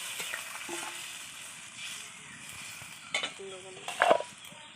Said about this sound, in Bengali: এবার দিয়ে দিচ্ছি এই যে সেদ্ধ করে রাখা আলু আর দিয়ে দিচ্ছি ভেজে রাখা বেগুন